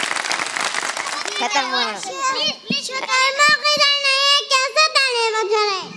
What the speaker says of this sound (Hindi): हम भी शुतुरमुर्ग के लिए तालियां बजा देते हैं मेरा ख्याल।